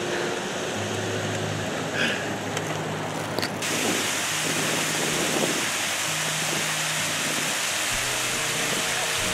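Fresh water flows along a mountain canal, a steady broadband rush that continues throughout, with some low rumbling layered beneath it.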